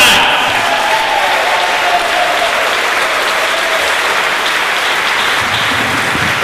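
Concert audience applauding at a No Glory in War event, a dense, steady roar of clapping from a large crowd that holds at full loudness for the whole stretch.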